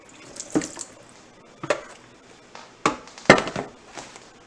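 Tap water runs in short bursts over the top of a dusty, dented food can from 2013, splashing and spattering against the metal in four or five separate gushes, close by with no talking.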